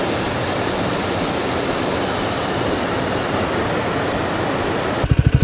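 Steady broadband rush of water flowing in a forest in the Chinnar wildlife area, continuous and fairly loud, with a brief burst of louder low thumps at the very end.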